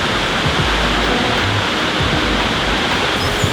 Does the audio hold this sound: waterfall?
yes